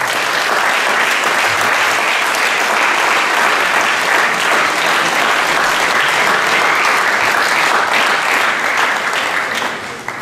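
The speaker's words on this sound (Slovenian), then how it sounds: "velik aplavz za Matejo" Sustained, dense applause from an audience at a sports-project presentation in Kamnik, a steady roar of many hands clapping for Mateja without a break for ten seconds.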